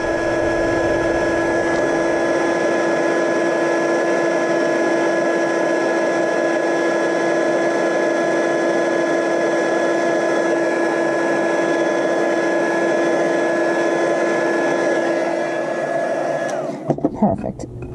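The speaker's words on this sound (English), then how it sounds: "the heat gun is already heated up from the embossing we just did" A heat gun melts embossing powder on a craft notecard, giving off a loud, steady electric blower whine with a constant pitch that runs unbroken until it cuts off near the end.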